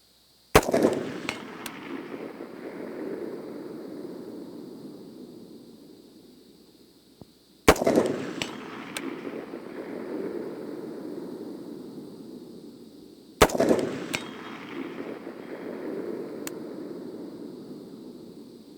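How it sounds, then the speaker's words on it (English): Three rifle shots fired at a steel target down range at a long-range shooting demo, each a sharp loud crack followed by a long fading echo, spaced about six seconds apart. "What we're going to have is Michael shoot a good 3-round group at the steel target down range"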